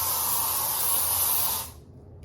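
Spray air freshener for a bathroom, a steady close hiss from the aerosol can lasting about a second and a half before stopping, followed by a faint click.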